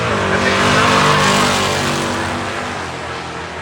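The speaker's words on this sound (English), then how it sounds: "That'll bring up the 55 Chevy next on the right-hand side of the racetrack." Loud launch of Cody Bailey's 1955 Chevy sleeper drag car on the right lane of a drag strip, engine note climbing in steady harmonic bands before fading as the car pulls away down the track.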